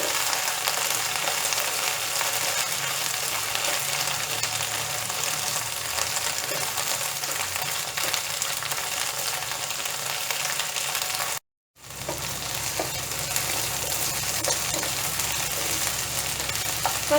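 Okra (ladies finger) fries in hot oil with a dense, constant sizzle, occasionally stirred, broken by a brief silent cut partway through before the crackling resumes.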